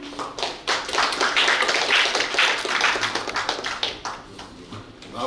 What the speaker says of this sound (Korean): 여러분 박수로 환영해 주시죠.